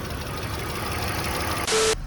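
An old car found abandoned in Sydney idles with a steady, low mechanical rumble and slight knocking, heard close up at night; a brief louder burst near the end.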